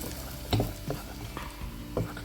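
Appam batter stirred by hand right after hot fried crushed coconut is poured in, giving a few wet sloshing strokes with a soft sizzle beneath, close and fairly steady.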